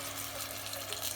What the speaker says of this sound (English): We're going to add a little bit of good chicken stock.